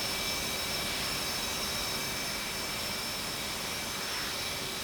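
A steady, loud jet engine roar from an aircraft in the flight simulator DCS, broadband and constant with thin high whine tones across the whole span, no voices present.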